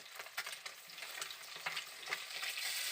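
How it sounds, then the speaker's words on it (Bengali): Rohu fish fried in a pan with oil, a steady crackling sizzle broken by sharper spattering pops, close and fairly quiet, no voices. "সমস্ত মাছগুলোকে দিয়ে দিয়েছি এবার আমি এক প্লেট ভালো করে ভেজে নেব"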